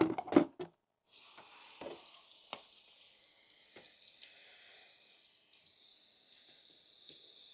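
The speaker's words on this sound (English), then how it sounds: "So we'll wash everything properly." Water sprays steadily onto a Yamaha R 125 motorcycle during washing, a continuous close hiss that starts after a second of brief knocks and carries on with occasional clicks.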